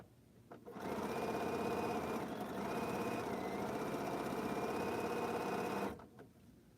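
A sewing machine stitches a pieced quilt block in one steady run of about five seconds, a close, even mechanical whir that starts and stops abruptly, with no talking.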